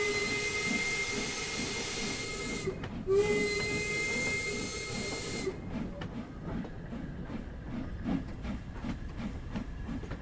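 Steam locomotive whistle in the Train Sim World 2 video game, two sustained toots separated by a short gap, followed by hissing steam and rhythmic chuffing of the engine.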